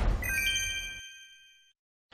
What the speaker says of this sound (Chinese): 手机响